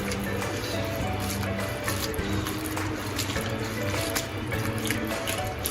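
Vaseti leafy greens are washed in water in a kitchen, with steady splashing and running water and faint sloshing as the leaves are swished about.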